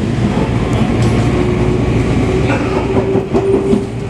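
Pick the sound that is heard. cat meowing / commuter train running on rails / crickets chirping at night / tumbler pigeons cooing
commuter train running on rails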